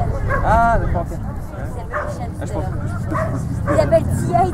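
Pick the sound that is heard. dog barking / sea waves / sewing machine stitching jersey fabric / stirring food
dog barking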